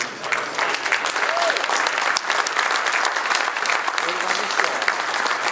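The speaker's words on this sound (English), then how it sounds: "another big round of applause for our track champion, Jeremy Pitzenbarger" A banquet crowd at a Belleville Motorsports IMCA Northern Sport Mod event applauds the track champion: dense, sustained clapping from many hands fills the room at close range and stays loud throughout.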